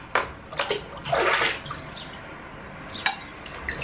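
A cleaning tool dipped into a bucket of hot soapy water makes brief close splashing and sloshing bursts, with a quieter dripping pause between them and a couple of small sharp water sounds near the end.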